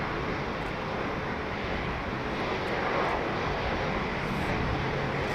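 A jet airliner at London Heathrow airport gives a steady, loud, broad engine roar mixed with wind noise, continuous throughout with no talk.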